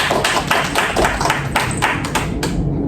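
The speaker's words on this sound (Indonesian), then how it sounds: "Tepuk tangan ya." A group claps in a classroom, a quick run of close, sharp hand claps that stops after a few seconds.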